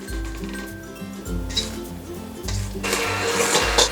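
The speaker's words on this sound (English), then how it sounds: "Now I'm gonna mix the butter and the sugar together until it's light and fluffy." Mixer creaming butter and sugar for gluten-free oatmeal cookies: a close, steady motorized whir with a rhythmic pulsing beat and light clinks against the bowl, running throughout.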